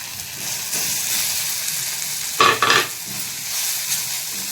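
Coriander, garam masala and turmeric powders sauté over medium flame for masala okra, giving a soft steady sizzle with a brief burst of spoon scraping in the middle.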